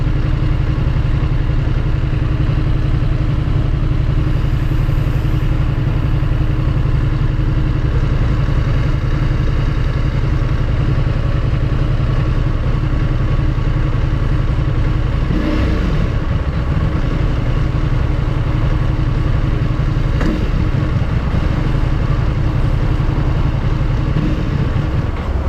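A Ducati Multistrada V4S motorcycle engine idles steadily and loudly at close range, with a deep, even rumble throughout; the bike has a fault that makes it stall, and a couple of brief shifts in the tone occur near the end.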